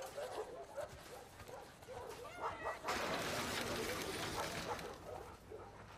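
A dog barks and yips in The Last of Us Part II, with excited barks and whimpers at moderate distance, and a person speaking over parts of it.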